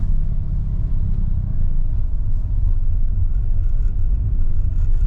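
Heavy road traffic backed up at a Comelec checkpoint near Paril, Cebu City, a steady loud rumble of car engines and idling vehicles close by, continuous without pauses and no speech.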